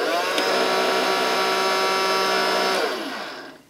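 A battery-powered Theo Klein toy Miele cylinder vacuum cleaner, with no hose attached, runs with a steady, buzzing motor whine close by. After a few seconds it switches off and quickly winds down to silence.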